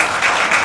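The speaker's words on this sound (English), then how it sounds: "So let's give him a round of applause." An audience at an entertainment-industry honors event in a New York warehouse venue claps in a brief, dense burst of applause at a steady, fairly loud level.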